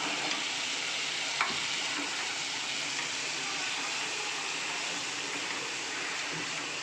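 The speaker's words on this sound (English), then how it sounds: "Now I have to stir it for mixing" Steady oil sizzle from a frying pan with faint scraping of a utensil stirring boiled potatoes, continuous and moderately close, with no talking.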